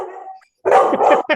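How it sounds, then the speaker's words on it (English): A dog barks a few times close by, with a short burst, a brief pause, then a louder cluster of barks and one final yip. "Hey, stop barking."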